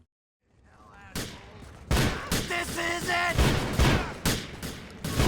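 Gunfire in the video game GTA IV, a burst of loud repeated shots and booms that begins after a moment of silence and continues under shouting voices.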